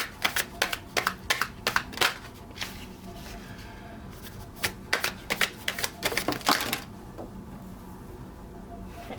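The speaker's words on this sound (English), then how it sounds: "Now let's pull the final cards of this reading." Tarot cards shuffled and pulled from a deck, giving a run of crisp riffling and flicking bursts in two clusters with quieter gaps between, close up with a faint hum underneath.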